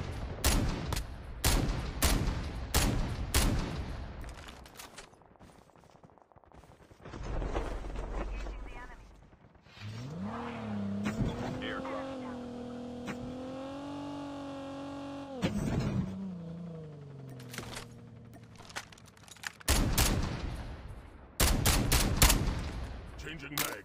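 An enemy vehicle's engine drones steadily in a video game battle, rising and falling in pitch midway, while bursts of gunfire crack repeatedly before and after; a voice speaks briefly over the action.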